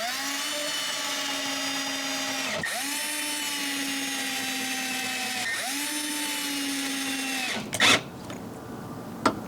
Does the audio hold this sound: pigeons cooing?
no